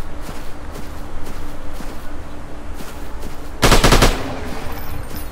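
Gunfire in a 3D dinosaur hunting shooter game: a series of soft, regularly spaced shots, then one loud, dense burst of fire near the end.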